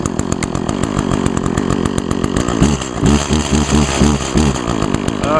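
An Echo chainsaw engine, just started cold in winter, runs at a loud rattling idle, then revs up in several sputtering, uneven surges, close to the listener.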